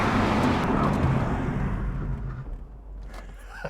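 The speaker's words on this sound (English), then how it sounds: "now emergency braking" A cheap sports car brakes hard during a drag race: a loud, broad roar of engine and tire noise that gradually tapers and fades over a few seconds, with no talk.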